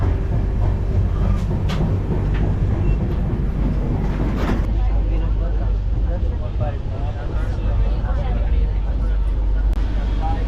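Continuous low rumble and rattle inside a moving Garib Rath AC train carriage, with people talking over the steady noise.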